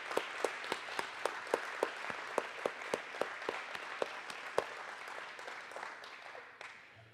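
Applause for employees at a community development lender's annual meeting, with individual sharp hand claps standing out clearly above a softer crowd of clapping that gradually thins out toward the end.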